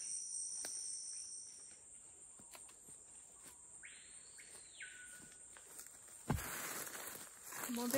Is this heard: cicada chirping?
yes